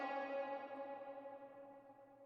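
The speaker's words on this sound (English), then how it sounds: "along with the reverb, this is how my reverb sounds." A reverb effect applied to vocals in FL Studio leaves a sustained, ringing tonal tail that slowly fades away over a couple of seconds, quiet and alone without any spoken words.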